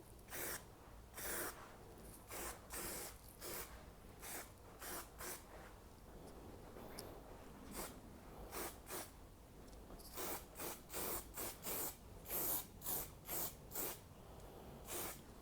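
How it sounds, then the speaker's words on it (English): Short repeated bursts of aerosol primer spray hissing close by onto the boot panel of a 1992 BMW 325i E36, coming in quick rhythmic puffs with brief pauses between them. "I don't really need to spray the whole panel"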